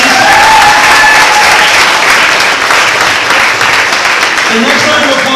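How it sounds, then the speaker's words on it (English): At a college show, an audience gives a sustained round of clapping that rolls on loudly and evenly, with a voice briefly audible over the noise. "applause, please"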